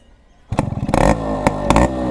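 Yamaha RX135 two-stroke motorcycle exhaust revving, a sharp burst of throttle blips rising and falling in quick succession, loud and close with no talk.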